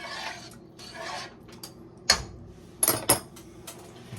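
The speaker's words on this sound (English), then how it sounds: "Stir everything." A utensil stirs chicken and wild rice soup in a pot, giving sparse metallic clinks and scrapes with a few sharper knocks against the pot, close and fairly quiet.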